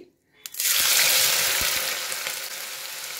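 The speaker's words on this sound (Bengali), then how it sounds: "এভাবে আমি সব আলু ভাজাগুলো ভেজে নেব" Potato slices drop into hot oil and set off a sudden loud sizzle that stays dense and steady, easing slightly as the frying settles, close by and with no talk.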